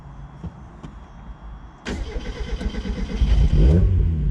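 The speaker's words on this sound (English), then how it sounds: "So go ahead and start it back up." A 2019 Mazda Miata restarted after stalling: a quiet idle-off pause and light sounds, then the starter catches and the engine fires up close by, settling into a rising, throbbing idle.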